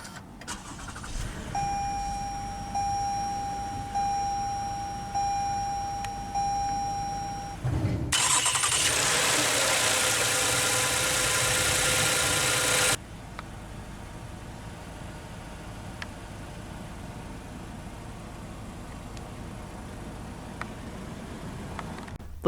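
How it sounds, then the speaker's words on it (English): A 2020 Toyota Avalon XLE sedan starts by push-button: soft cabin chimes, then a loud, brief starter crank and engine catch, before the engine settles into a quiet, steady idle heard from inside the car. "let's go ahead and start the engine, and it does have push-button ignition"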